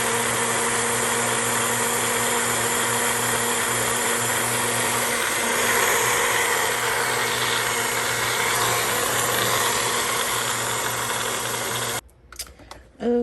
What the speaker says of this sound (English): So now I got it in my little blender, my little bullet.